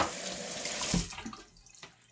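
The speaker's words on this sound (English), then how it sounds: "I'm gonna rinse this a bit." Food being rinsed under a running kitchen tap, a steady close hiss of flowing water that thins and trails off into a few faint splashes.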